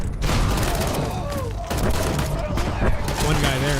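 Gunfire cracks repeatedly in Fallout New Vegas as a sniper rifle and other weapons go off in a dense volley, with a voice talking over the shots and some mechanical clatter.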